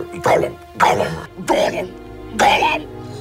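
A voice imitates a cat coughing up a fur ball: four loud, close, convulsive hacking bursts spaced about a second apart, raspy and throaty.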